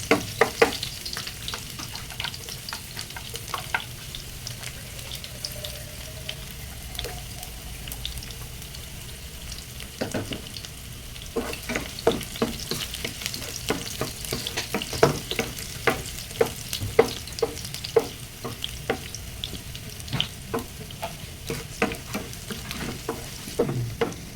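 Chicken fries in hot oil for adobo flakes, a continuous close sizzle broken by frequent sharp clicks and scrapes of stirring against the pan, with no voices over the long stretch of cooking.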